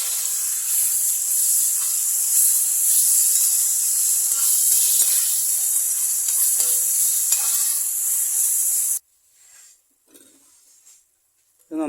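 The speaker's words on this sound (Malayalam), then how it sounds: "നന്നായിട്ടൊന്ന് വഴറ്റിയെടുക്കാം." Green chili, ginger, garlic and curry leaves sautéing with a pinch of salt in a pan for pork fry, giving a steady close sizzle with spoon scrapes for about nine seconds before it cuts to near silence.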